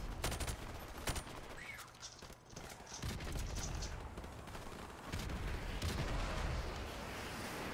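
Bursts of automatic gunfire and explosions rattle through a Call of Duty: Modern Warfare combat scene, with repeated sharp volleys over a dense, continuous battle din.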